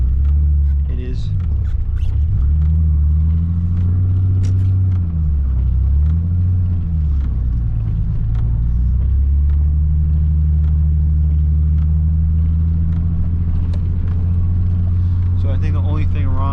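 A Nissan 300ZX drives through a blizzard, its engine a loud, steady low rumble from inside the cabin with shifting pitch as it pulls along, and a voice talks over it.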